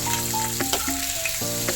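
Ingredients for a brinjal gravy sauté in a pan, giving a steady close sizzle throughout with a faint tonal hum behind it and no talking.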